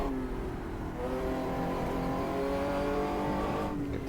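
A 1960s sports racing car engine climbs in pitch under half throttle up a hill on the Targa Florio road course in a racing simulation, a steady loud whining drone with a gear-change dip and rising revs.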